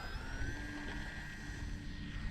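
An RC airplane taking off, its small engine a thin, steady whine rising slightly in pitch, fairly distant and faint over a low outdoor rumble.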